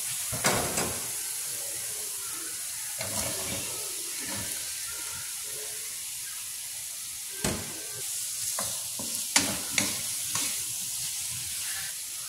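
Carrots sizzle and fry in a hot pan while being stirred, with a steady hiss broken by sharp scraping clicks of the utensil against the pan.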